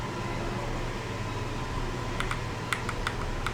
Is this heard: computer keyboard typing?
yes